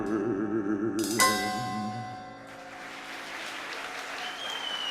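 Audience applause for a troupe of dancers at a variety song show, a dense burst of clapping that rises as the music ends and carries on steadily, loud and close.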